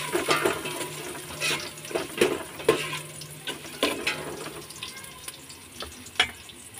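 Dried anchovies and milkfish are stirred into laing in a pan, with scraping and clattering stirs over a soft sizzle and a few sharper knocks, and no talk.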